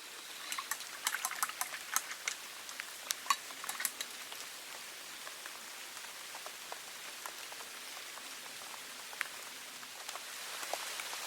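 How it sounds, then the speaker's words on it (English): Rain falling outdoors at Montchenon, scattered drops tapping sharply on a surface over a soft, constant wash, with no voices. "the rain settled in"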